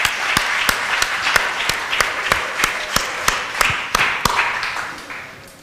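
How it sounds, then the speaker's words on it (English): A lecture audience claps steadily, with a few sharp, close hand claps standing out over the dense patter, fading slightly toward the end. "Let's give him a round of applause again."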